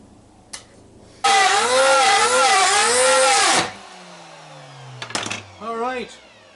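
A small router cutting into hard scaffolding wood lets out a loud, high whine for about two seconds, its pitch wavering under load, then winds down, followed by a few short clunks and a brief second burst.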